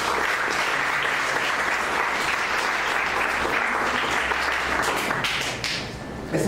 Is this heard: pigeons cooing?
no